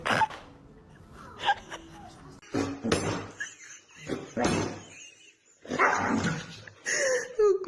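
Dog vocalizing in short growly bursts and barks indoors, several uneven outbursts close by with pauses between, alongside clinking of dishes and cutlery.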